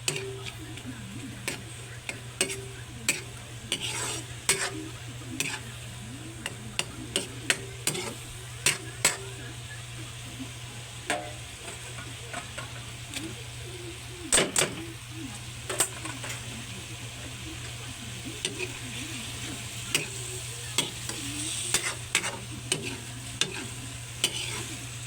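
Ground pork sautéed with oyster sauce in a pan, a steady sizzle broken by frequent sharp scrapes and taps of a spatula stirring against the pan, fairly close and continuous with no talk.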